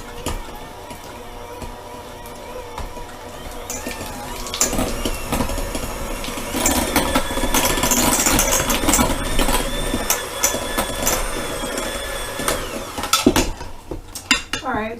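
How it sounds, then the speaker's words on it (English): An electric mixer beating softened cream cheese in a bowl, a whirring motor with rattling beaters that grows louder midway and stays busy, ending in a few clanks. "The cream cheese has been softening on the counter to get a little bit warm for about half an hour."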